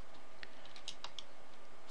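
Code is typed on a computer keyboard in a short run of light, irregular key clicks, close and fairly quiet with no voices.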